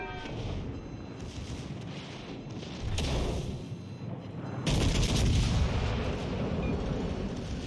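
Heavy naval gunfire in the World of Warships Legends video game: deep booming salvos and rumbling blasts roll over a constant battle din, with louder swells near the middle and end, no talk.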